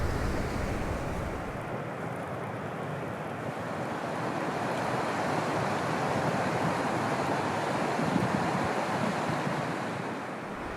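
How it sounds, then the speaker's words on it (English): Hiafossen waterfall in Hjelmeland, Norway, pours down into smaller rivers, making a constant broad rushing roar that stays steady and fairly close with no voices. "Right behind me now, you can see the waterfall Hiafossen"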